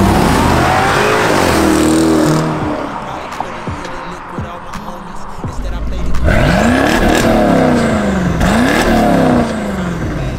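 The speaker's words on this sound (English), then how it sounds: "your car sounds good" A BMW 435i engine revs and accelerates, loud and close, with rising and falling engine tones. Some passing-car noise mixes in, and people talk over it.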